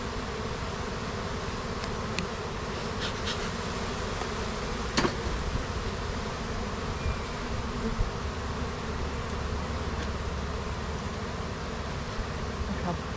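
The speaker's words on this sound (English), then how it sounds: "Full of freaking bees." Honey bees swarm around a full hive before winter, a dense continuous buzz close by with occasional individual bees zipping past, no voices over it.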